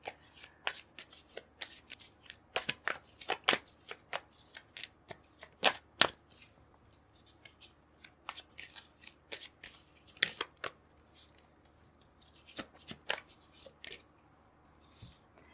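Tarot cards being shuffled by hand in a quiet room, a run of crisp riffling bursts and soft flicks repeating in irregular clusters, close and fairly faint, with no talking.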